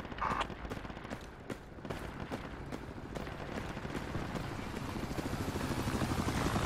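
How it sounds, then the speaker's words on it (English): An enemy helicopter flies over a city battle in the video game Project Reality, a steady rotor roar building in loudness over continual bursts of distant gunfire and explosions. "It's that enemy chopper, huh?"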